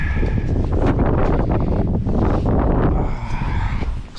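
Strong wind roars steadily over a sailboat on Lake Michigan, a loud continuous buffeting rush across the whole span that eases slightly near the end.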